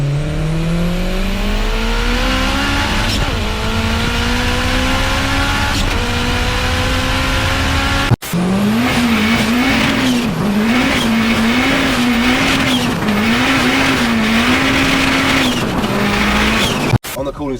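A turbocharged K24-swapped Honda EG Civic revs hard, its loud engine note sweeping upward through repeated climbs, then pulsing in rhythmic waves of throttle, close and continuous, with occasional talk over it.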